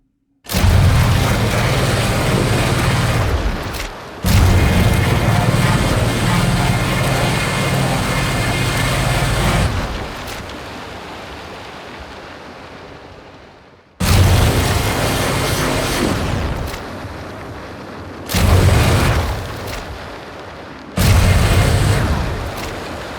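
Sound-designed blasts for a sci-fi weapon called the Sun Gun 3000: loud, dense roaring bursts that last several seconds each, cut by abrupt silences, with a booming low rumble beneath a harsh crackling top.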